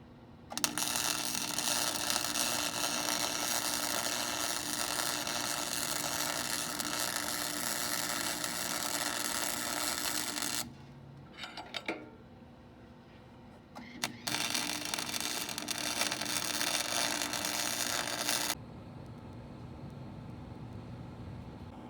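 Welding on a Craftsman mower pulley, with a loud steady crackling buzz that runs for about ten seconds, stops with a few brief sputters, then returns for another long continuous stretch.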